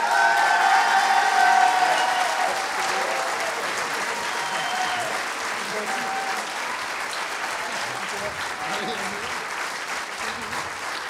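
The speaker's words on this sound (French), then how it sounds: "Levez-vous, messieurs, on peut les applaudir." Audience applause for medal recipients at a flour mill company's jubilee celebration, a steady wash of clapping from a sizeable indoor crowd, strongest at the start and continuing evenly to the end.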